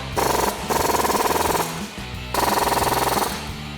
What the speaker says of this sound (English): Now grab your 21mm swivel socket and tighten these down.